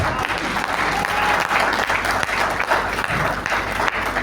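Loud, dense audience applause at a Hindi kavi sammelan poetry gathering, a full crowd clapping close and continuous with a few louder bursts and faint voices mixed in.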